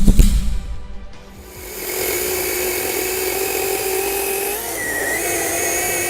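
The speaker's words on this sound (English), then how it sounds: "I've never had a battery-powered chainsaw that could do that." Battery-powered chainsaw whirs up to a steady high-pitched whine as it cuts through wood, starting with a few clunks and a brief dip before holding a loud, even buzz to the end.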